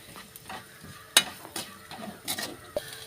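Onion frying with turmeric, chili powder, coriander powder and meat masala, a soft close sizzle with several scraping stirs and one sharp utensil tap against the pan.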